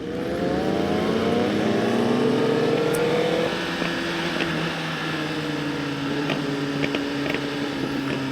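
A motorcycle roars close by on a night ride, its engine rising through the gears with shifting pitch while sharp, scattered exhaust pops and crackles break through the steady drone.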